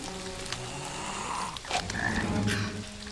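Repeated frog croaks, a rough warbling call rising and falling, close and fairly loud against background noise.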